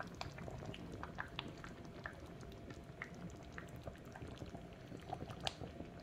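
Djoumgblé, a dried okra sauce with red palm oil, oxtail and smoked chicken, bubbles quietly in a pot. Faint, steady simmering with small pops and ticks runs throughout with no voices.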